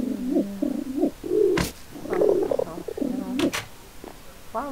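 Pigeons coo in a Minecraft game, soft low repeated cooing calls in short bursts, close and clear, with a few brief sharp clicks between them.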